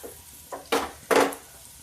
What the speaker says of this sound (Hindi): ये डीप फ्राई नहीं है, ये तो एक तरह से शैलो फ्राई हुआ